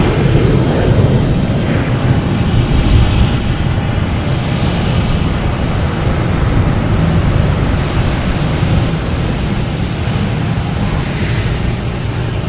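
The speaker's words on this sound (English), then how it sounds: "We got JetBlue here heading somewhere." JetBlue airliner passing at Boston Logan Airport, a loud, steady, broadband jet roar filling the whole stretch with no talk.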